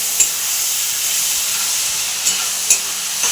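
Spices and a bay leaf fry in a pan of oil for a fish curry, giving a steady close sizzling hiss with a few faint clicks and stirs, and no voices.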